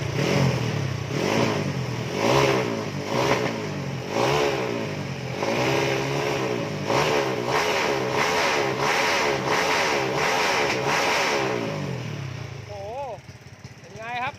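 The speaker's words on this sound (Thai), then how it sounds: "ฟังเสียงครับ สุดยอดอ่ะ บอกตรงเลยนะครับ อันนี้คือรถที่จูนเข้าที่แล้วนะครับ" A tuned car engine revs repeatedly in a steady rhythm of loud, rising and falling bursts. It stays close and strong throughout, then eases toward idle near the end.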